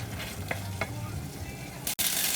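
Steady sizzling as fish balls, fish cake and yellow noodles stir-fry in a pan, with occasional stirring scrapes, continuous and close, with a brief sharp clatter near the end.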